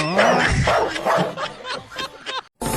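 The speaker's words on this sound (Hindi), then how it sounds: "प्यारी डॉगी, मुझे मत काटना अच्छा?" A dog barks repeatedly in short, loud, close bursts, mixed with laughter-like yips, in a Pakistani comedy skit, followed by a brief silence and a final sharp bark.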